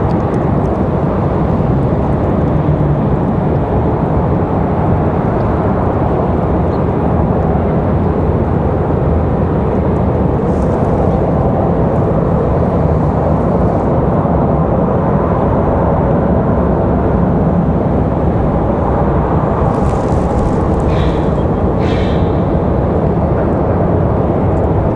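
A Southwest airliner bound for Houston takes off at Raleigh-Durham International Airport. Its engines make a loud, steady roar that holds without a break for the whole stretch, with no voices over it.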